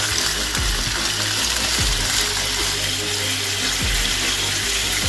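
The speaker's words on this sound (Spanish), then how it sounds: "La carne se va haciendo, le voy a dar la vuelta y sigo con las patatas." Pork slices for Portuguese bifanas frying in a pan give a steady, loud, close sizzling hiss that never lets up, with a few soft low knocks and no talking.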